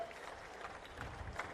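An audience at a public programme applauds: a soft, steady wash of clapping from a crowd, distant and faint, lasting the whole short moment.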